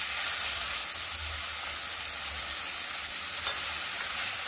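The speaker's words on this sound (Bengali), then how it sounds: "এবার দিয়ে দেবো পেঁয়াজ পেস্টটা।" Onion paste fries with a loud, constant sizzle in a pan of hot oil while being stirred, a close and unbroken hiss for a Bengali tel koi dish.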